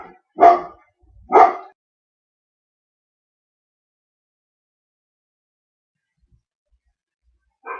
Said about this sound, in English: Okay, they're still barking